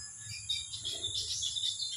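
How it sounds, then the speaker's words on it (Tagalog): Faint, high-pitched chirps from three small birds flutter on and off over a quiet background. "Ang ganda pakinggan ng mga huni nila."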